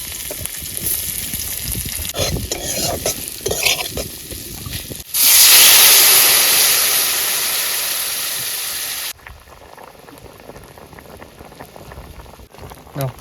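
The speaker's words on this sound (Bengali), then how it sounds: "এবার তরকারি বসাবো। প্রথমে পেঁয়াজ দিয়ে দেবো।" Onions dropped into hot oil for a fish curry cooked outdoors by a river in the Sundarbans give a sudden loud, hissing sizzle that lasts about four seconds and then stops sharply, with quieter outdoor background noise before and after.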